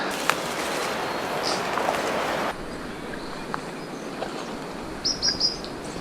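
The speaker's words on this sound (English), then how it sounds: "Everywhere we look, it's just birds, bird song, birds." Birds sing in Fiordland bush, scattered high chirps and short calls against a steady hiss of forest ambience, mostly faint, with a brighter trill near the end.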